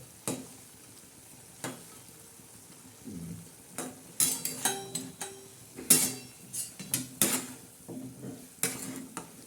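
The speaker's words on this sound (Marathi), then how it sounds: "आता आपण ही भाजी हलवून घेणार आहोत" Sev curry is stirred in a pot, the spoon scraping and clinking against the metal in irregular, close strokes over a soft simmering sizzle.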